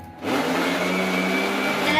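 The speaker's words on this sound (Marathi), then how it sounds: "तो व्यवस्थित मिक्सरमध्ये वाटून घ्यायचं आहे" Kitchen mixer grinder starting up and whirring steadily as it grinds potato pieces for rice pakoda batter, a loud, even motor whine running without a break after a brief quiet moment.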